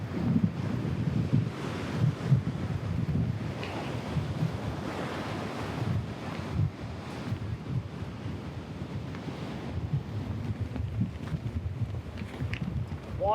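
Sea waves washing onto the shore, a steady broad wash with slow surges, heard fairly close and soft, mixed with wind buffeting the microphone and no voices.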